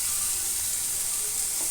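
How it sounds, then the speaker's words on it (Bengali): Grated cauliflower frying in a pan with onion and garlic for a bharta, making a dense, continuous, close sizzle that stays even throughout. "গ্রেট করে ফুলকপিগুলো দিয়ে দিলাম"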